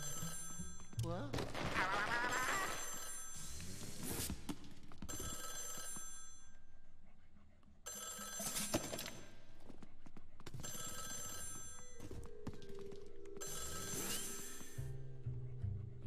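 In a Luigi video game, a telephone rings in repeated bursts of bright, buzzing bell tone, separated by short gaps and mixed with game music and effects.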